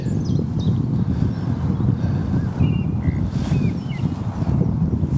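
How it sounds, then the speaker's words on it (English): Wind buffets the microphone beside a pond during fly fishing, a steady low rumbling roar that runs unbroken throughout with only faint background detail above it. "That is windy."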